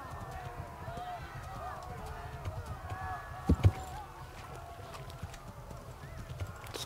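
Steady horse hoofbeats clip-clop under game music and ambience in Kingdom Come: Deliverance on PC, with a couple of sharper thuds midway and a voice talking over it.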